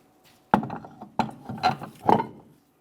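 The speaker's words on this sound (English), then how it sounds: "We're going to start on all 5 of our 21mm lug nuts" A hand ratchet clicks in short bursts, four quick runs of ratcheting as 21mm lug nuts are started on the rear wheel of a 2007-2017 Mitsubishi Lancer, close and clear with no talk.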